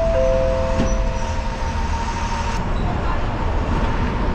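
An MSRTC Lalpari BS6 bus makes a U-turn back onto the highway, its engine rumbling steadily with road noise close by and a couple of faint tonal whines early on.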